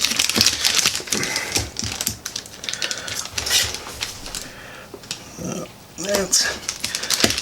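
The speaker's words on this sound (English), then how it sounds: "cut up the butter here real quick" Butter being cut up with a knife while making Rotel cream corn, heard as a series of sharp close clicks and taps against a cutting surface, with occasional talk over the cutting.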